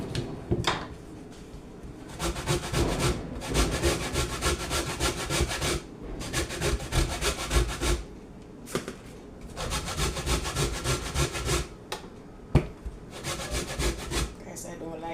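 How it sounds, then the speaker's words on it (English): Knife cutting food on a board, repeated rough sawing strokes in bursts of a second or two separated by short pauses, close and fairly loud. "I'm going to put it on the board and cut it"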